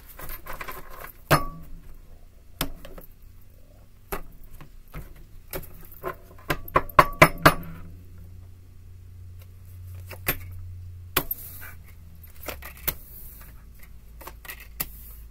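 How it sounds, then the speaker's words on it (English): Tarot cards being shuffled by hand, scattered clicks and papery riffles with a dense burst of rapid card flutters midway, close and fairly faint, with no speech. "I'm hearing one more shuffle. Shuffle it one more time."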